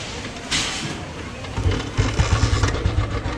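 A 2009 Royal Enfield Bullet Standard 350 motorcycle engine idles with a steady, soft low thump that grows more distinct after a brief rustle, while someone talks over it.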